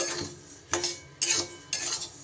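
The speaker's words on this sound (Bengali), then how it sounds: "ডালিয়াটাকে আমি শুকনো খোলায় একটু কড়াইতে ভালো করে নাড়াচাড়া করে নেব" Dry broken wheat is stirred in a hot, dry wok: four scraping, rustling strokes of a utensil against the metal, spaced about half a second apart, close and fairly quiet, with no voices.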